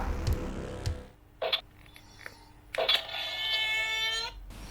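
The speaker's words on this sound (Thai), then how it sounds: "อันนี้เหมือนเสียงเปิดประตูนะครับเป็นเหล็กแบบหลอนๆเลย" A tinny, eerie creak like a metal door swinging open, from a Mezco Leatherface toy's sound effect, drawn out for over a second after a few short clicks and thumps.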